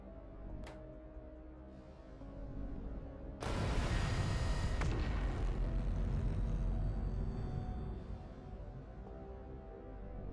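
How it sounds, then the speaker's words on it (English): Huge explosion in the video game Factorio, modded with Krastorio 2: a sudden, loud, broad blast bursts in over a low mechanical drone, then a long rumbling roar slowly fades back to the background hum. "I didn't expect the explosion to be so big that it would reach the base even from all the way out there"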